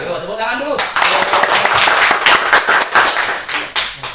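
A group at an Indonesian teacher training session claps together on a prompt, with a burst of brisk, dense hand clapping that cuts in sharply after a moment of talk and stays lively and close.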